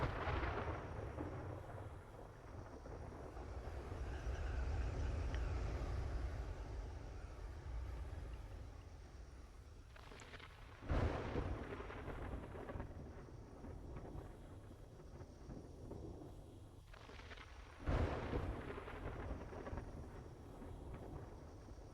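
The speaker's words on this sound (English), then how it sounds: "Stupid storm." Storm in the 7 Days to Die video game: steady roaring wind and rain noise throughout, broken by two sharp thunder cracks at moments far apart, no talking.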